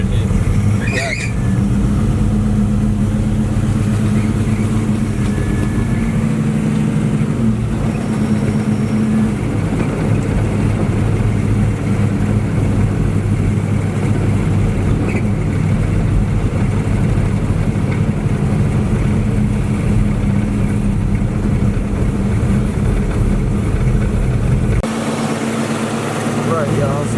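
A Dodge engine drones and revs from inside the car during a fast ride, a loud steady rumble throughout that drops away near the end, with people talking over it.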